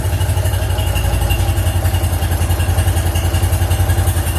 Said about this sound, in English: And then it should sit there and idle like that all day long.